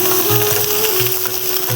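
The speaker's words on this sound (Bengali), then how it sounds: "আমি এখানে জিরে ধনে আদা বাটা আছে, আমি এখন পেঁয়াজের ভাজার মধ্যে দিয়ে দেবো।" Cumin, coriander and ginger paste hits hot oil with frying onions, giving a loud, steady sizzle with faint stirring, heard up close with no voices.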